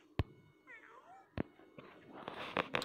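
A cat in the Toca World video game meows a few times, short rising and falling cries amid sharp clicks and taps, fairly close and moderately loud, with brief game noises around them.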